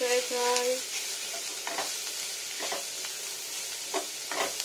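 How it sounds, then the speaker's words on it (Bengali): Aloo chop potato croquettes frying in oil: an even, close bubbling sizzle with occasional sharp clicks from a utensil, opening with a brief tonal hum. "এটা ভালো করে ফ্রাই করবো।"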